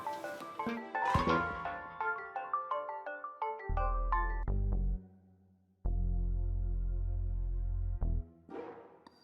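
A mobile phone ringtone plays a bright, repeating electronic melody of quick notes, then shifts to longer sustained tones, loud and close with no voices.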